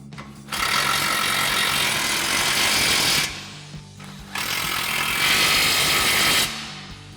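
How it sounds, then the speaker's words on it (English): An impact wrench with an 18mm socket hammers loudly in two long bursts of about three and two seconds, tightening nuts on a Bilstein B8 5100 front shock on a 2015-2020 Ford F-150, with a short pause between them. "grab our 18mm socket on our impact and an 18mm wrench to go ahead and tighten these down"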